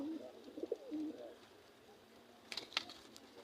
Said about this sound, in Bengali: এই যে এখানে আমাদের মাদি কবুতরগুলো